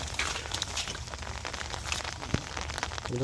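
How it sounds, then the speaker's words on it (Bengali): Heavy rain falls steadily near a bamboo fish trap set in shallow water, giving a dense, continuous patter close by with no voices. "প্রচুর বৃষ্টি নামতেছে"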